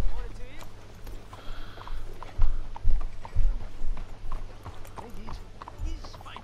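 Horse hooves clip-clop in Red Dead Redemption 2, a steady close rhythm of hoofbeats with a low rumble underneath, while voices talk over them.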